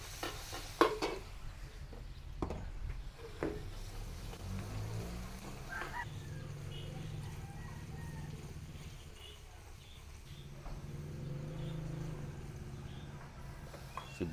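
Garlic stir-frying in a pan, a steady soft sizzle with occasional scraping and stirring knocks, fairly quiet and close.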